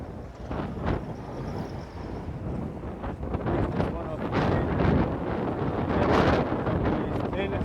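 Strong wind buffets the microphone beside a roadside service station, a constant rough rumble and roar that rises and falls throughout, with a voice speaking underneath.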